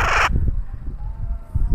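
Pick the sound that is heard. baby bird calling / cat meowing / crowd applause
baby bird calling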